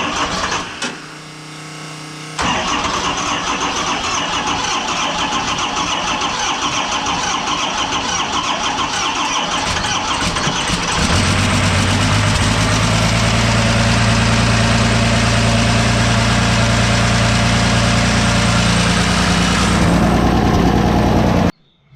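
A Cummins diesel swapped into a monster truck cranks briefly, catches and roars to life, then settles into a loud, throbbing, low idle close by before cutting off abruptly at the end.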